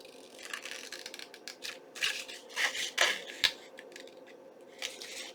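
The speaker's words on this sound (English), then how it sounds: "So I'm going to cut a little bit more." Scissors cutting paper while making a junk journal envelope from book pages: a run of soft, close snips and rustling paper, with a few louder cuts in the middle, no talking.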